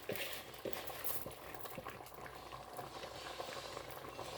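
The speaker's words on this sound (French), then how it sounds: "On va bien mélanger le tout." Washed rice and smoked mackerel are stirred together in a pot, a soft wet churning and faint bubbling at low level with a few light scrapes, close and continuous, no voices.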